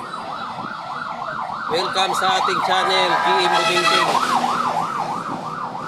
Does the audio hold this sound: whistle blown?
no